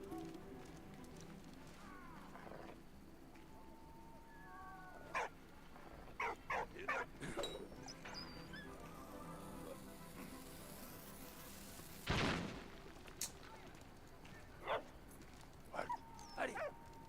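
A dog in the Valiant Hearts World War I video game gives scattered short barks and whimpers at moderate distance over a quiet game soundscape, with a louder burst midway.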